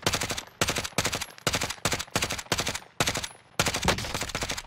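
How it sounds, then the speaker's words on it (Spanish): Rapid bursts of gunfire in Call of Duty Warzone, about eight loud automatic volleys separated by short gaps, dense and close, with no talk over them. "Yo disparo. Fuego de supresión."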